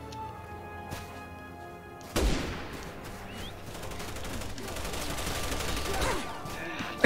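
Gunfire in Resident Evil 6 from a sniper and other weapons: a sudden heavy burst opens into sustained loud crackling volleys and thuds, fairly close, with a sharp report at the very end.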